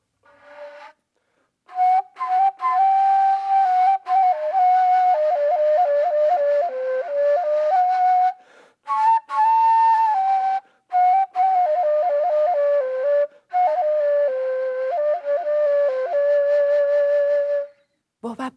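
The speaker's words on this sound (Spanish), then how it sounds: "esta flauta tiene una técnica bien, bien difícil de labios y suena así." Traditional flute without an embouchure hole, played with a demanding lip technique: a solo melody of clear breathy sustained tones and quick ornamented runs, separated by short pauses, close and loud with no talking.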